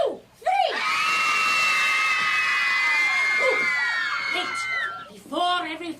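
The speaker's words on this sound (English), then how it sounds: "Everyone, on the count of 3, I need everyone to scream." A children's audience screams together on cue after a countdown, a loud sustained mass of high-pitched shrieks and yells lasting several seconds, then breaking into scattered shouts at the end.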